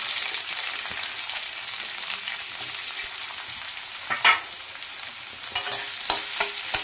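Chopped onion and green chili dropped into hot oil for a fish curry, crackling and frying steadily with a few spoon scrapes and taps toward the end, no voices.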